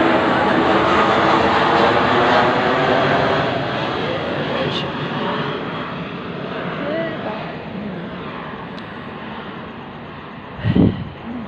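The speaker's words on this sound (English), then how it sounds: "these planes come pretty frequent" An airplane flies overhead with a loud, broad engine roar that gradually fades as it passes, while a person talks over it.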